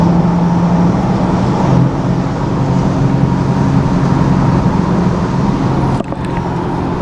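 A loud car fitted with catless mid-pipes drives steadily along the road, a continuous deep exhaust drone heard from inside with a constant rumble and a brief dip near the end.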